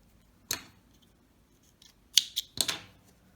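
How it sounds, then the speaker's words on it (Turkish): Scissors snip through crochet yarn after a motif is finished: one crisp cut, then a quick cluster of three or four snips close by, with silence between. "bu ipliğimizi sağlamlaştırıp keselim"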